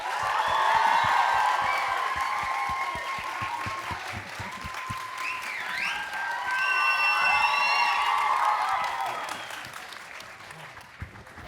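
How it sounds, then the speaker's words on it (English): A full-house festival audience at an in-conversation event with Andrew Garfield bursts into applause with cheers and whoops, loud at first, then easing slightly and swelling again, with voices calling out over the clapping. "Guys, can you give a big round of applause for Andrew Garfield?"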